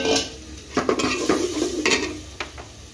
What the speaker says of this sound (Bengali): চিকেন রান্না চলতেছে